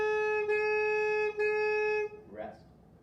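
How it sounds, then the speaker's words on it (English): A saxophone plays quarter notes of one beat each on a single steady pitch, three sustained tones separated by short tongued breaks, then it stops and faint room noise remains. "we're going to play quarter notes that get 1 beat each"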